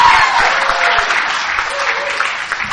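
Audience at an Alcoholics Anonymous roundup in Albany, Georgia breaks into steady clapping that carries on for a few seconds, loud and dense, with faint murmuring mixed in.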